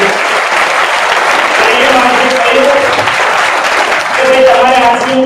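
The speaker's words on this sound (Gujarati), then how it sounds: "એકવાર જોરદાર તાળી એમના માટે." Loud, sustained applause from a large crowd at a company gathering honouring its founder and chairman, dense clapping filling the room with faint voices and tonal sounds mixed underneath.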